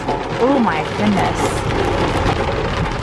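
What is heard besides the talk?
heavy rain on a car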